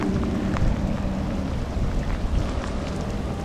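Steady rain falls on a fishing boat out at sea, a dense, even hiss of drops close by with no talking.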